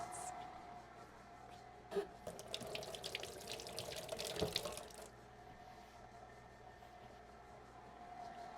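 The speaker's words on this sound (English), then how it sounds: "Wash my hands." A kitchen tap runs as hands are washed, a few seconds of close, splashing water rising and falling before the flow stops, leaving a quiet room hum.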